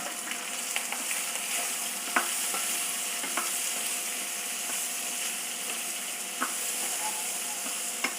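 Elephant foot yam sautés in a pan with curry leaves, asafoetida and turmeric: a constant close sizzle with occasional clicks and scrapes as it is stirred.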